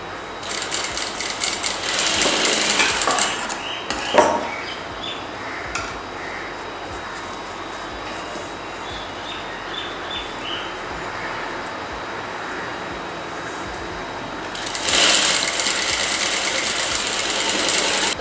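Sewing machine stitching darts on a blouse, running in loud rapid bursts at the start and again near the end, with a quieter stretch of handling and light clicks in between.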